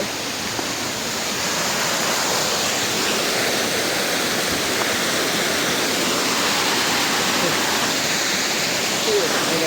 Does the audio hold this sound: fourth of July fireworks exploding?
no